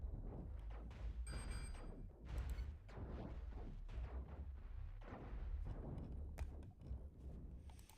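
Missiles launch and explode in a loud, continuous barrage in the space game Cosmoteer, with repeated booming blasts and crashes across the whole stretch and no pause.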